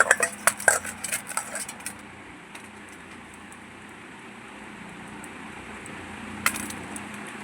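Knife edge tapping and scraping against a board while dough is portioned, a quick cluster of sharp clinks at the start, then quiet, with one more click near the end.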